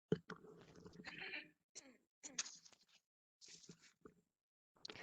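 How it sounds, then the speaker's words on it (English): A close, quiet voice clears its throat several times during a conference plenary session, in short rough bursts separated by brief silences. "pardon me for clearing my throat."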